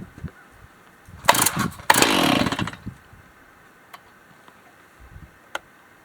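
A Stihl MS361-clone G366 60cc 20-inch Farm Boss chainsaw on choke gives two short, loud, rough bursts as it briefly catches and dies, followed by quiet pauses with a few isolated sharp ticks.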